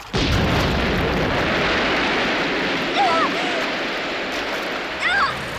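A hand grenade blast in a war film about fighting the Japanese army, heard as a loud, sustained broadband roar filling the whole clip, with brief shouting voices rising over it twice near the end.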